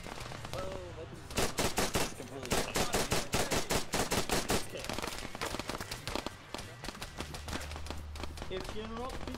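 Rapid bursts of automatic gunfire from an Arma 3 military firefight, loud repeated volleys with short gaps, mixed with a voice talking over the shooting.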